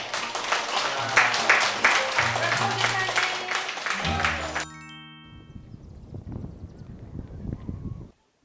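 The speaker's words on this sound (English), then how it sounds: "the class comes to an end with a round of applause." Round of applause ending a community class with volunteers in a Rwandan village, rhythmic group clapping for several seconds that cuts off, followed by quieter scattered sounds and background music.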